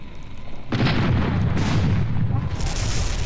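Cannon fire in the airship battle game Air Buccaneers, a heavy booming roar that starts abruptly and keeps rumbling loudly and continuously, with a second surge of blasts layered over it.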